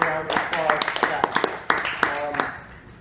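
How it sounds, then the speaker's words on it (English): A lecture audience gives a round of applause, with sharp, scattered claps ringing out over several seconds while voices talk underneath. "we should definitely give a round of applause to Seth"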